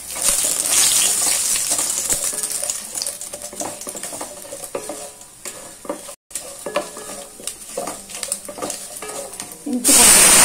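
Cashew nuts fry in a pan with ghee for soya ghee rice, giving a loud, close, crackling sizzle with stirring scrapes throughout, a momentary dropout, and a sharp surge of sizzling at the end.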